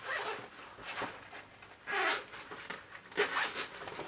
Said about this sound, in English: I'm going to zip them back up so I keep them nice.